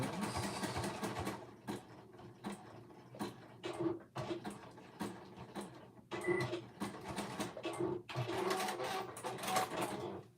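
A home sewing machine stitches a seam at a 3/8-inch allowance with back stitching at the start and end, running in close, uneven bursts separated by short pauses.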